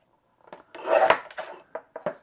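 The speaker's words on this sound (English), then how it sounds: "I'm just going to cut a couple strips from this." Scissors snip strips from cardstock for a paper-pieced butterfly card: a few short dry cuts and rasping slices close by, with one longer scrape in the middle and brief snips after it, no talk.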